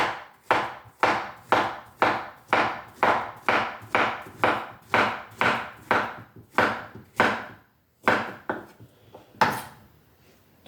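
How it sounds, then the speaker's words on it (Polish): Steady knife chops through a peeled banana on a cutting board, about a dozen crisp even strikes roughly twice a second, then a short pause and a few scattered final cuts, close and clear with no talk. "No tak, kroimy banana."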